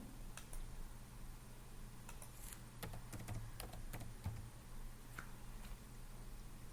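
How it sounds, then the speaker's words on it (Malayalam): Quiet keyboard typing while entering a search for Google Forms, a sparse run of light clicking keystrokes in irregular bursts over a low background hum. "ഗൂഗിൾ ഫോംസ് എന്ന് ടൈപ്പ് ചെയ്യുന്നു."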